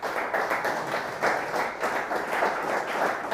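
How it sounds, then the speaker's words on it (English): Conference audience at a Bitcoin DeFi event in Montreal applauding, a moderate crowd of clapping hands with an even, slightly pulsing texture throughout. "A little round of applause for Matthew"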